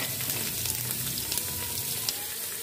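Capsicum and carrots fry lightly in a pan, giving a soft, steady sizzle with faint crackles close by.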